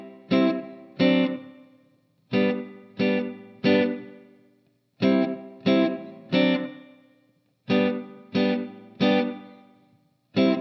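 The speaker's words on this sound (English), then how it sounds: "And the whole bridge, for context, sounds like this." Electric guitar playing the bridge of a song, repeated groups of two and three strummed chords that ring and decay, close and clear with no voices.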